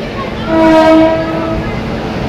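A train rumbles in close by at Kalyan station, and its horn sounds one clear, sustained blast over the steady roar of the cars.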